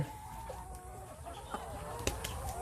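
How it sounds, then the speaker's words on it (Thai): Laying hens cluck softly in a quiet barn, with scattered faint calls and a few sharper clucks, while a low background hum continues. "อันนี้เป็นไก่ไข่เนาะ"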